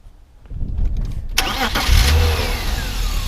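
A 2000 BMW M Coupe engine cranks and catches, then settles into a loud, rumbling idle close by.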